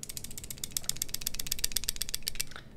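A Microtech Scarab 2 Shadow OTF knife gives a rapid, faint, close-up run of tiny metallic clicks and rattles for under three seconds, with no talking.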